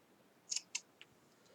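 Large scissors snip a few times while crafting an Advent calendar screen, giving two close, crisp cuts followed by a fainter click against a quiet background.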